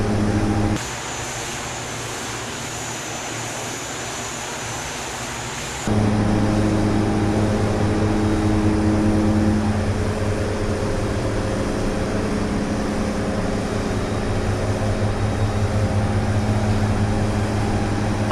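Twin turboprop engines of a DHC-6 Twin Otter in a flight simulator drone steadily throughout, with the hum jumping louder and fuller about a third of the way in, then holding an even roar with no talking.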